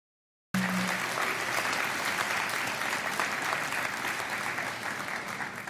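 A crowd at an arts festival awards ceremony breaks into applause after a short silence, the clapping dense and steady throughout, easing only slightly toward the end, with no speech over it.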